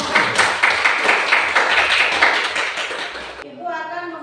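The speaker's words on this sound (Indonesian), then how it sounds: "kita berikan aplaus dulu untuk kelompok" A class applauds a student group with a few seconds of lively, rhythmic clapping from many hands, close by, stopping abruptly before a voice begins.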